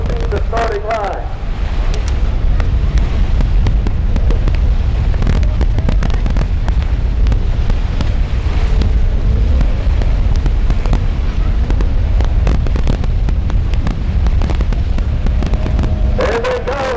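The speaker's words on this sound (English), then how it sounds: "the boats are approaching the starting line" Racing boat engines roar and buzz continuously over wind-blown rumble as the boats approach the starting line of an 800-foot sprint, loud and close, with crackling bursts and bits of voices mixed in.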